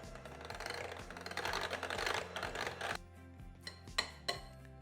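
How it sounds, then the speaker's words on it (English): Smoked salmon dip ingredients mixed in a bowl with a utensil, a dense run of clinking and scraping strokes that thins out into a few sharp taps near the end, close up with no talk. "And now mix it all together."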